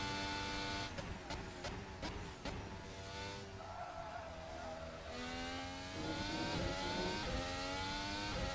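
A Formula 1 race car in F1 2019 at the Hungarian Grand Prix screams through a hot lap, the engine climbing through revs with quick gear-change breaks, dropping, then rising again, loud and continuous.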